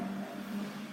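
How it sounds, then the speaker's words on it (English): A car speeds past outside, a faint steady engine drone heard at a distance, brief and without any talk. "I just heard a car speeding by really fast"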